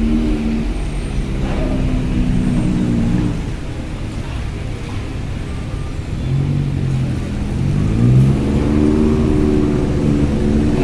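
Private cars rumble up onto the upper deck of the KMP Kirana 2 ferry at the Bakauheni–Merak crossing, a steady close engine drone with rising revs, low ship machinery hum underneath.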